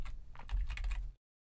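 Keys on a computer keyboard are typed into a table cell, a quick run of close, crisp clicks for about a second before everything falls silent.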